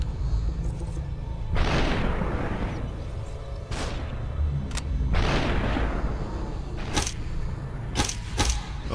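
Gunshots in the video game Superhot, several heavy booming shots with reverberant tails spread irregularly over a low rumbling background, plus a few sharper short cracks near the end.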